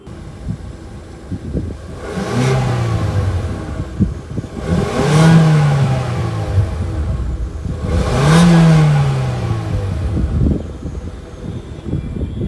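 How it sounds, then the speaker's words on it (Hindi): Exhaust of a 2026 Maruti Suzuki Ertiga VXi, a loud, close engine idle that swells through three revs, each rising and falling in pitch, with a steady rumble between them and no talk. "साथ ही जो एग्जॉस्ट नोट है वो भी आप लोग सुन लीजिए।"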